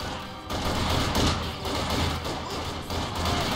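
Sustained gunfire and machine-gun bursts from Company of Heroes 2, a dense, loud battle barrage with heavy thuds and continuous fusillade throughout.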